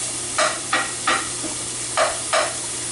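Bacon fat rendering in a pan for carbonara, a constant low sizzle broken by five short scraping bursts of stirring at irregular intervals, close and without talk.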